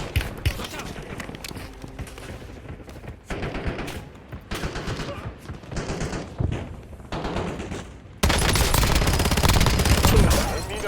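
Rapid bursts of automatic gunfire in a squad-based shooter video game, crackling in clusters and ending in a loud, sustained volley, with game voices heard underneath.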